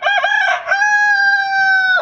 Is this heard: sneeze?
no